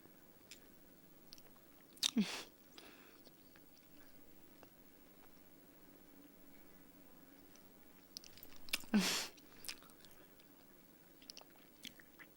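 Chewing a Hostess-style knockoff snack cake: two short, loud crunchy bites several seconds apart, with faint soft mouth sounds between them in a quiet room.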